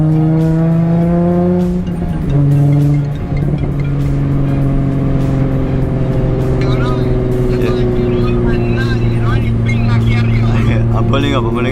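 An Infiniti G37S pulls up with a steady, loud engine drone that shifts pitch as it slows, while a person talks over it.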